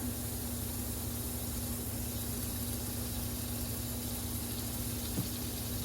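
An ounce of chorizo sizzles in a skillet, a steady even crackle and hiss that holds close and constant with a faint low hum beneath.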